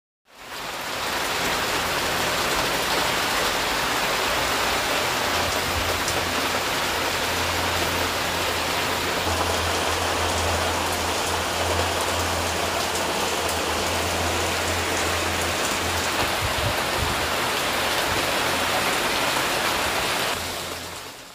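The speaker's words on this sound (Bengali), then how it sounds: "চলুন আপনাদেরকে বাইরের ঝুম বৃষ্টি দেখিয়ে আনি" A heavy downpour seen from indoors, with a loud, steady wash of rain that stays constant for about twenty seconds and fades in and out at the edges, with no talking.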